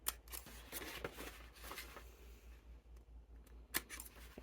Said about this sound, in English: we're going to start by snipping in from all your outside